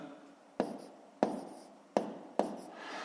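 Four sharp pen strokes on paper, evenly spaced about two-thirds of a second apart, each a crisp tap followed by a short scratchy trail, close and clear with no talk.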